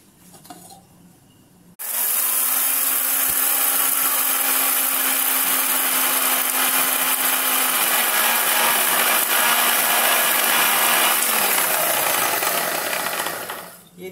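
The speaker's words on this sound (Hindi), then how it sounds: "मिक्सी के जार में इस तरह से डाल दे रही हूँ और इसे पीस लूंगी।" A kitchen mixer grinder grinding spices starts abruptly and runs loud and steady for about twelve seconds, a harsh whirring grind, then winds down at the end.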